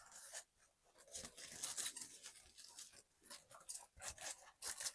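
Scissors cut through craft material in quiet, close, uneven snips and rasping strokes, faint and intermittent.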